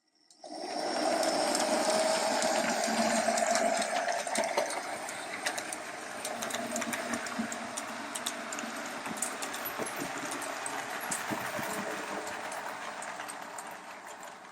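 A small model train runs continuously with a whirring motor and fine clicking from its wheels, steady throughout with no talking.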